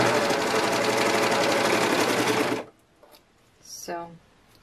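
A sewing machine stitches a dress, running loud and steady for under three seconds before stopping, followed by quiet and a brief voice.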